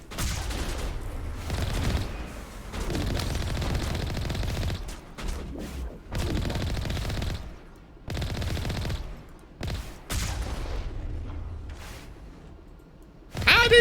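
Sniper and automatic gunfire during a Mass Effect firefight, with dense rattling bursts that stop and start in blocks and brief gaps between volleys, loud and close throughout.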